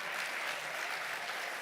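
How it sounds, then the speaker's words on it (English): An audience at a provincial investment conference claps in a brief, dense burst of steady applause, fairly distant and without voices over it. "Your round of applause doesn't satisfy me."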